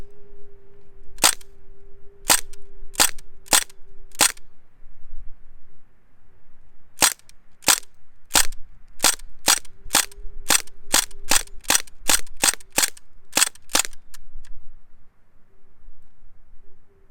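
A Crosman DPMS SBR BB gun fires sharp, crisp cracks close by: five spaced shots first, then a rapid run of about seventeen more in full auto, each crack followed by a brief faint hiss.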